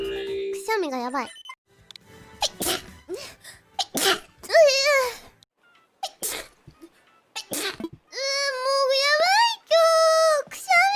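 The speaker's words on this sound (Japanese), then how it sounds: "くしゃみがやばい。" A young woman sneezes several times, short sharp bursts scattered between quiet gaps, with squeaky voiced sounds and some talking mixed in.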